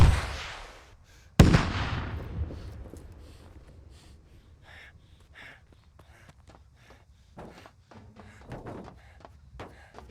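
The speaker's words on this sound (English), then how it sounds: "The launcher also fires a deadly backblast, so make sure your rear is clear before firing." In Squad, a rocket launcher fires once with a sharp, loud blast and backblast that trails off in a long decaying rumble, followed by scattered softer thuds and footstep-like knocks at a distance.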